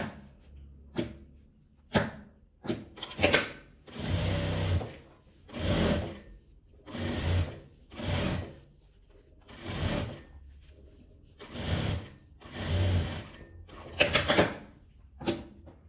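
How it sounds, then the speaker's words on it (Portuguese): A sewing machine stitches a zipper onto fabric, teeth facing down, for a small phone pouch made from fabric scraps. It runs in short bursts of about a second each, repeated steadily and close by, separated by brief pauses and small handling clicks. "Vou colocar aqui com o dentinho pra baixo. E vou costurar."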